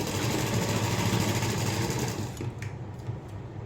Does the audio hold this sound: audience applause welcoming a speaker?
no